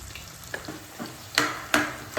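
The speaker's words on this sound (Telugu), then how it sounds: "ఉల్లిపాయలను దోరగా వేయించాలి." Sliced onions frying in mustard oil for a mutton curry, with a soft, low sizzle broken by a few sharper scraping bursts as the pan is stirred, fairly quiet and with no talking.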